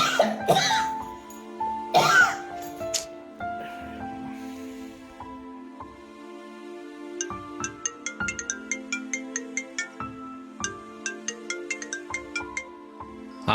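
A phone ringtone plays during a call, starting with a melodic sequence of tones and then moving into a rapid, repeating pattern of bright chiming notes. It is fairly loud and clear, with no talk over it.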